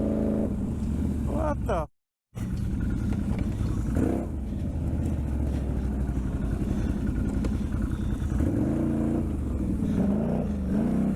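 An ATV engine revs hard and steadily while reversing in mud, a loud continuous rumble that strains and shifts pitch, broken by a brief dropout, with a voice exclaiming over it.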